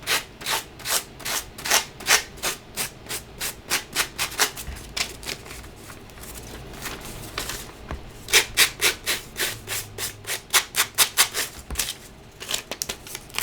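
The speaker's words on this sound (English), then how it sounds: "take a sandpaper block" A sandpaper block scrubbing a kraft paper bag in quick, rhythmic strokes, loud and close, with a slower, quieter stretch in the middle before the brisk rubbing resumes, no voices.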